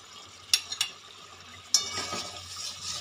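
Snakehead fish pieces dropped into a simmering raw-mango fish curry in a pan: a few sharp clinks of a utensil, then a splash as the fish goes in and a lingering bubbling sizzle.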